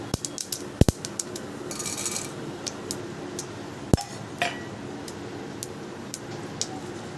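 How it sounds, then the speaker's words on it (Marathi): Fenugreek seeds crackle in hot oil during tempering, a steady faint fizz broken by sparse irregular pops and a couple of sharper snaps, with no voices. "छान आवाज येत आहे तडतडण्याचा, पहा"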